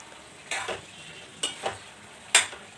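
Cauliflower sabzi cooked in leftover kadai paneer gravy is turned over in a pan with three separate scraping strokes of a spoon against the metal, over a soft background hiss.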